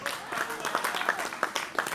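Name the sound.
audience applause for a performer at an outdoor festival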